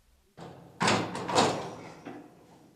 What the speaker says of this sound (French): Il pousse la porte